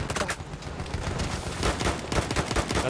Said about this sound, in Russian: Откуда эта стрельба идет?